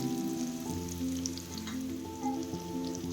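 Chopped onions sizzling steadily in hot oil in a pan while cooking okra palya, a close continuous frying hiss with light stirring and a faint tone in the background.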